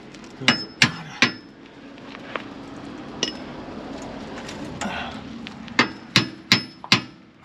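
A hammer striking a metal part to drive it into place during a Silverton breakdown repair, giving sharp ringing clanks: a quick cluster of three, a lone hit, then a final run of four, with quiet shuffling between.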